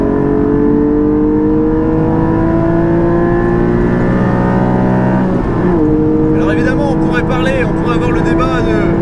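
A Porsche 718 GT4 with an Akrapovic exhaust laps the Spa Francorchamps circuit, its engine droning loudly and steadily, briefly dipping in pitch then climbing again, while people talk over it.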